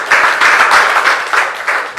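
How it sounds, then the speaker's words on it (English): An audience at a school of engineering presentation event gives a short burst of applause, close and fairly loud, with uneven pulses of clapping across two seconds. "A round of applause."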